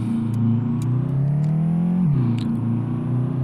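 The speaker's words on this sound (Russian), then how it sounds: "Вот такой звук у нас газование." Engine of a Fiat 131 revving in the truck-driving game Euro Truck Simulator 2, a steady droning hum that rises in pitch, dips sharply near the middle, then climbs again, with no talk over it.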